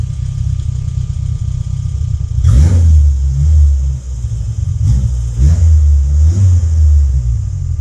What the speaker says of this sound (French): Alors on va essayer de démarrer ça. On va avoir le starter là. Ça démarre tout seul, une merveille.